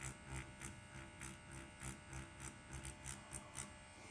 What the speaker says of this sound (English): actually really satisfied with the way this machine shades.